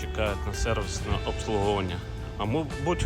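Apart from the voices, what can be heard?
No distinct noise like a dog, phone or traffic.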